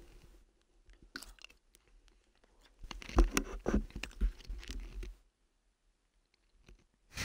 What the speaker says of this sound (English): I'm eating jalapeno crispers now.